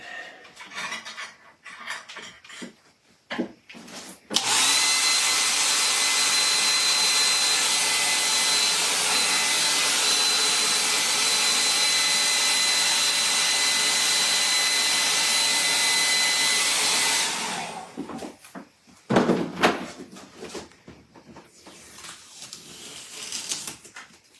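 A hair dryer blows steadily on a watercolor painting for about twelve seconds, a loud continuous broadband whoosh with a faint high whine, switched on abruptly and off again, with quiet handling noises before and after.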